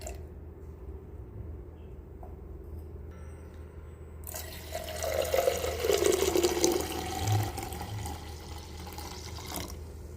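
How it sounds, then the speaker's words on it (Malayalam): After a quiet stretch, water splashes and runs steadily into a pan while tea is being made with thick buffalo milk, a close, moderately loud pour lasting several seconds. "കട്ടിയുള്ള പാലായതുകൊണ്ട് തന്നെ ഒത്തിരി വെള്ളം ചേർക്കണം."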